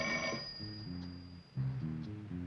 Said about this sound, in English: It's my golf club phone.